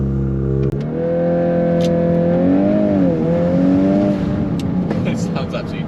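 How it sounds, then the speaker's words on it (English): A VW MK8 Golf R with a Milltek exhaust system revs hard during a launch, its loud engine note climbing and wavering steadily up close for several seconds. "So yeah, that's the Milltek exhaust system on the MK8 Golf R."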